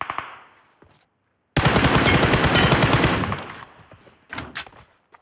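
Loud, dense automatic gunfire in the PUBG Mobile battle royale game, a sustained rapid burst lasting over a second, then quieter scattered shots and a couple of sharp final bursts, with no talking.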